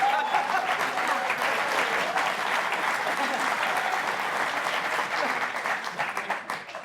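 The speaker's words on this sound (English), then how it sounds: "How dare you applaud this?" Studio audience applause on a late-night comedy talk show, a dense, steady wash of many hands clapping at full strength throughout, fading slightly toward the end.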